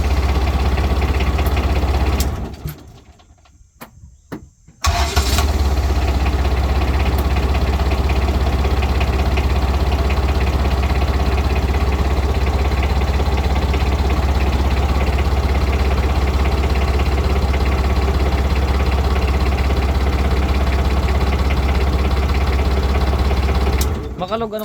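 A Kubota D1005 Japan-surplus diesel engine idles with a loud, steady, knocking rumble that runs throughout, apart from a brief dropout near the start.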